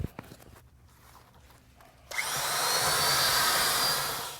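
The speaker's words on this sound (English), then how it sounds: "You want that drill paddle completely submerged while mixing." Quiet scraping and knocks give way to a loud, steady power drill whirring continuously as a submerged paddle churns thick self-leveling concrete overlay mix.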